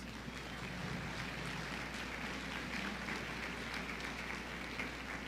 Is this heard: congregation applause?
yes